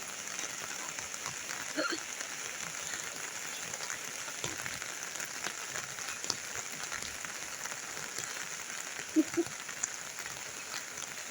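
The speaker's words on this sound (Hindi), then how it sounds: "मैंने कहा आप लोगों को दिखाती हूँ बारिश।" Rain falls steadily on a rooftop in Dehradun, a constant even hiss with faint scattered drips and small knocks, and no voices.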